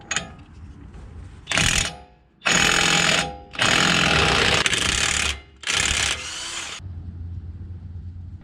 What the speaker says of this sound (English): Now we're going to use a 35mm socket to remove our axle nut.